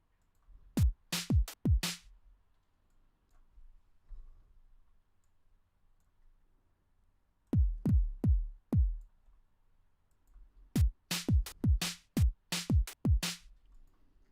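An 8-bit chiptune drum pattern built with the Magical8bitplug2 plugin repeats with a doubled kick, playing several short bursts of crisp, punchy synthetic kicks and snares separated by silence, with no voices.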